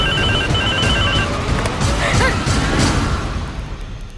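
A telephone rings in a home during a Telugu TV serial scene, its repeating electronic bell tone loud over a dense bed of background noise and music for the first half, then fading out.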